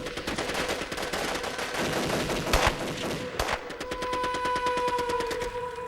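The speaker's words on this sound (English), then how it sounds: "nothing prepared the ATF for the hail of gunfire they now faced" Rapid bursts of gunfire crackle continuously, with heavy automatic volleys and a couple of louder, close booming shots partway through.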